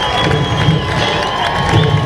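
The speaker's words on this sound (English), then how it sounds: "that'll bring this Longhorn crowd to their feet, urging on the defense" A home high-school football crowd for the Lambert Longhorns cheers loudly and steadily, urging the defense on before a fourth-and-inches play, with scattered shouts in a dense wash of noise.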